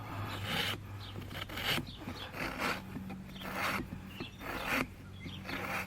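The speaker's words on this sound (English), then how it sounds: "Now I'm making sure that my rasp doesn't hit over here on the other side." A farrier's rasp works across a horse's hoof during a trim, giving repeated scraping strokes at a close, moderate level, each pass a rough rubbing burst in an uneven rhythm.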